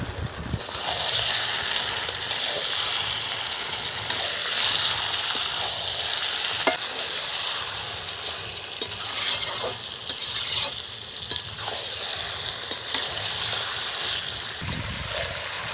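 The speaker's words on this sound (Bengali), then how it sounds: "মাংসটা দিয়ে নেড়ে নিলাম একটু" Pieces of rooster chicken fry in spice masala with a loud, continuous sizzle and hiss, while a spatula stirs and scrapes against the pot at irregular moments, heard up close.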